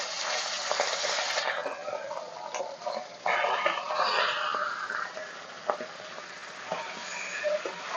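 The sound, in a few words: chicken pieces lightly frying in a pan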